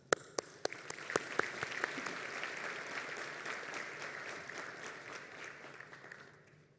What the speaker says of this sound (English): The least we owe your parents and the faculty is a round of applause